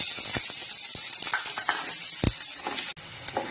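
Small-chopped large onions fry in hot oil in a pan, giving a loud, steady sizzle broken by scraping stirs and a few sharp clicks of a utensil, with no voices.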